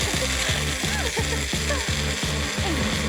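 A blender whirs steadily, blending an extra spicy hot sauce until smooth, with a loud motor drone and a repeating rhythmic churn roughly twice a second, running alone without voices.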